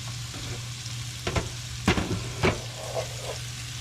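Potatoes frying in oil in a pan beside kielbasa, a low steady sizzle broken by a few sharp scraping and clattering stirs, near and moderate in level, with no voices.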